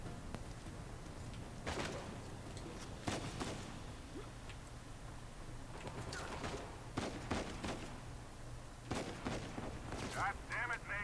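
Gunfire in the video game Uncharted 4: several sharp broadband shots spread across the clip, some in quick bursts, over a steady background of game ambience and music.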